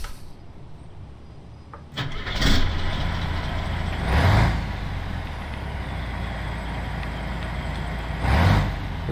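A DAF 95 ATi truck's engine cranks and fires up in Euro Truck Simulator 2, then settles into a steady low idle with two brief revving swells.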